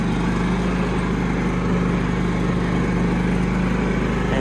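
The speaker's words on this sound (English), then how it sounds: "I don't know how this mower sounds through my phone doing a video, but it sounds normal. The engine sounds normal to me, no issues." A John Deere LT110 riding lawn mower runs at a steady, close drone with a low hum and an even rattly engine tone, constant throughout and in normal running condition, without talk.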